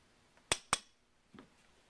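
Two sharp metallic taps in quick succession, then a softer third knock, as a pin is driven out of a Remington 81 Woodsmaster rifle block in a gunsmithing shop.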